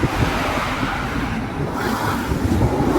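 Steady road traffic on a busy street, a continuous broadband rumble of cars driving past at moderate distance with slight swells as vehicles pass, no voices.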